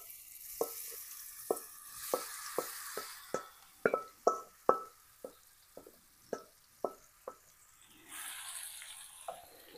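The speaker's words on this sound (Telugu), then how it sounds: "ఇప్పుడు మనం మ్యారినేట్ చేసుకున్నాం కదా ఆ ష్రింప్ను ఇప్పుడు ఆయిల్లో ఫ్రై చేసుకుందాం కొంచెం సేపు" Marinated shrimp cook in oil with a faint hiss beneath a series of sharp, irregular taps and plops from a utensil working the pan, quiet and close.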